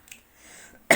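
A single short, sharp cough from a man, close and sudden, bursting out at the very end after a near-silent stretch.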